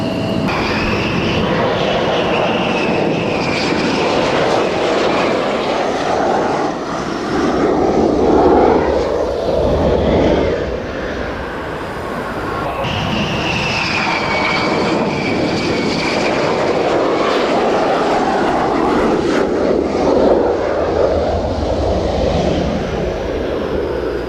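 An aircraft takes off at the Royal International Air Tattoo airshow, its loud engine roar sustained and rising and falling for the whole stretch.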